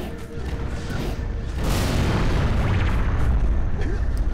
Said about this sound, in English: Such a cool explosion.